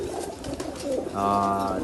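A pigeon coos close by in a short, soft, throaty call with a clear sustained note at the end, faint background noise behind it.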